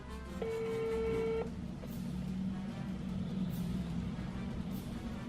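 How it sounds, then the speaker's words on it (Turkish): A phone ringback tone plays while a call is placed, giving one steady electronic beep of about a second that then stops, over a low background hum of a car or room. "Hala çalıyor."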